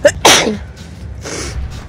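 A single sharp sneeze bursts out near the start, followed by a short breathy exhale and a soft murmur afterward.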